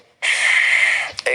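A single deep inhale taken as part of a lung breathing exercise, a steady airy rush lasting close to a second, close and loud, ending with a brief catch.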